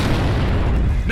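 A loud, dense booming rumble of a grenade explosion in Gears of War on Xbox 360, filling the whole moment close and heavy before trailing off.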